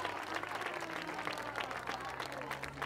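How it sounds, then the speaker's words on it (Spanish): Audience applause at a 25N commemorative ceremony at Estación San Roque in November 2023, steady dense clapping throughout, with a faint voice underneath. "vamos a darle un fuerte aplauso al representante, en este caso, del Instituto de Taraguilla, a Carlos, con esa letra."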